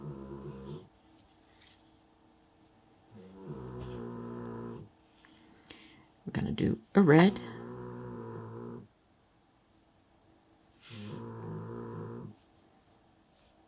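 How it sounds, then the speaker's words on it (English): A pet dog snores in repeated low rumbling bursts of about two seconds each, fairly close, with quiet gaps between them and a few sharper snorts in the middle. "Doggy's snoring again."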